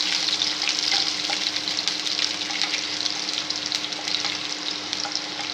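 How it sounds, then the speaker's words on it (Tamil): Onions with curry leaves frying in a pan until browned, a dense continuous sizzle with faint stirring scrapes and a low steady hum underneath, close and constant throughout. "கொஞ்சம் வெங்காயம் கலர் மாதிரி வரட்டும்."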